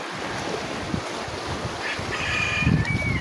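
Steady wind roars across an open microphone with rushing surf-like noise, continuous and fairly loud, with no voices, at the seashore while fishing.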